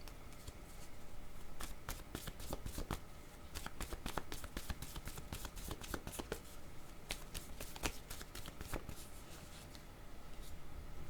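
Playing cards are shuffled repeatedly during a tarot-style reading, giving a run of crisp riffling bursts and flicks spread across the whole stretch at moderate loudness, with no talking over them.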